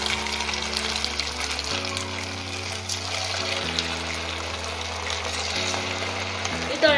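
Chicken popcorn pieces frying in hot oil in a frying pan, a steady close sizzle and hiss running throughout over a low, even background hum.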